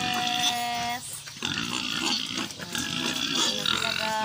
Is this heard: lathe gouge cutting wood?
no